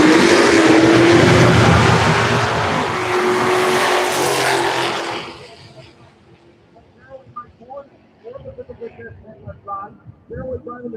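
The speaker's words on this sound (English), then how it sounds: "There we're driving the Charger right now." A Charger drag race car at a Turn & Burn event roars loudly and steadily for about five seconds, then cuts off abruptly, leaving faint scattered voices and background noise.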